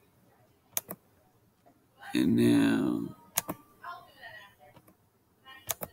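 A few sharp, separate computer mouse clicks while marking a ball's position frame by frame in Vernier video analysis software, spaced irregularly; a person speaks briefly between them.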